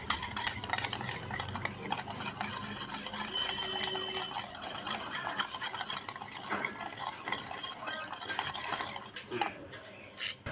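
A spoon stirs and beats a thick shrikhand mixture with dry fruits in a bowl, producing a quick, continuous run of soft scraping and clinking close by, without any speech.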